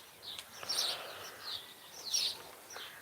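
Birds chirp and tweet outdoors in short, high bursts that repeat at irregular intervals, moderately close over a quiet background.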